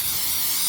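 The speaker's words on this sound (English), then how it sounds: "So I just coated the pan with Pam butter spray" A short, loud, steady hiss of Pam butter cooking spray coating a baking pan, heard close up and alone.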